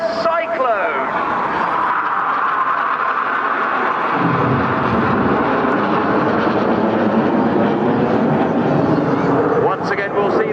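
Red Arrows jets roar overhead during an RAF air show display at Clacton-on-Sea, a loud sustained rumbling drone that swells and shifts, with a commentator talking over it.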